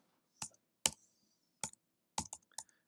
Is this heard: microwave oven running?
no